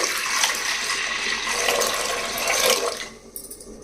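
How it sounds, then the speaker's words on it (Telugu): Water poured into a pressure cooker holding washed dal for gongura pappu, a steady broad splashing rush that runs loud for about three seconds, then tapers off, with no voices. "వేసిన తర్వాత ఇందులో రెండు గ్లాసులు వాటర్ వేసుకోవాలండి"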